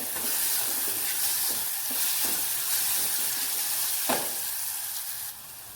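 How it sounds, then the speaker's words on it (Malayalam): Chopped banana sautéed in ghee over a low flame for a banana coconut milk pudding, with a constant close sizzle and soft irregular spoon scrapes and stirring taps, no voices. "ഇതിലേക്ക് നമ്മൾ ഒരു ഏത്തപ്പഴം ചെറുതായിട്ട് അരിഞ്ഞു വെച്ചത് ഇട്ടൊന്ന് വഴറ്റിയെടുക്കാം."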